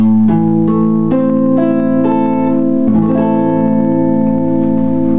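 A minor barre chord on guitar rings out, strummed and let sustain, followed by a few more strums of the same chord, clear and close.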